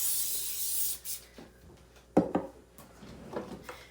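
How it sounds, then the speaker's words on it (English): Oil spray hisses over shaped tahini brioche knots, with a loud broadband burst at the start, then quieter short spritzes and light handling noises on a kitchen counter. "And then I like to give them another spray."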